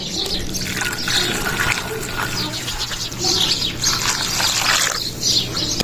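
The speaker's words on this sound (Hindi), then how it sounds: "इसमें हम शामिल करेंगे गर्म पानी" Hot water splashes and pours steadily over pieces of liver in a container, a continuous liquid rush with bright spattering, close by and moderately loud.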